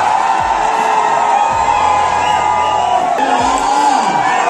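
A dense, noisy crowd roars and shouts continuously at a Roadies audition in Delhi, with scattered whoops and a few calls rising out of the steady din.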